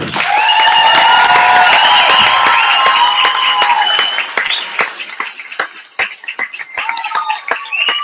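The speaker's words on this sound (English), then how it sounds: "Give them a warm round of applause" An audience at a Salt Lake Comic Con FanX all-hands staff meeting breaks into loud sustained applause that thins out into scattered claps, with a few voices over it.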